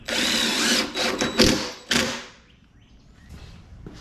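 A power drill drives a screw into the wood of a wall-mounted tool-holder shelf, a loud whirring burst of about a second and a half, then a short second spin before the motor stops and the room goes quiet.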